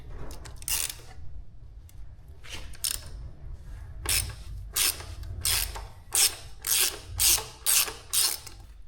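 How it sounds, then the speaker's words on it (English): A ratchet undoes the 12mm brake caliper bolts on a 2023 Honda CB500X: bursts of close, crisp clicking, irregular at first, then settling into a steady back-and-forth rhythm of loud ratcheting strokes, with no talking. "So we start by undoing the caliper here. 2 bolts, 2 12mm bolts."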